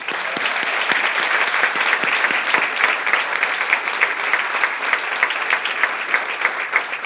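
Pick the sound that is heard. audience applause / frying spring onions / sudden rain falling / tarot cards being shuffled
audience applause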